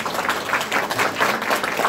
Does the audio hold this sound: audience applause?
yes